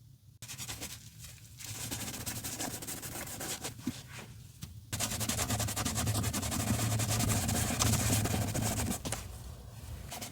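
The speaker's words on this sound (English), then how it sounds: "Make sure you alternate between different parts of the cloth so that you're not continuously rubbing off and then rubbing back on the same gunk that you just got off." A cloth rubs steadily over a leather Red Wing boot, wiping off built-up gunk in a continuous close scrubbing hiss that grows louder and denser partway through, with no talking.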